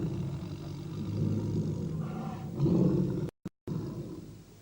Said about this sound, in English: at the end of 5 minutes, you're going to hear a roar from the jungle